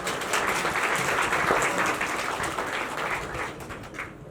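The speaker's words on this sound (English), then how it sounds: "Big round of applause for her." An audience breaks into warm, dense applause that swells briefly and then tapers off slightly toward the end.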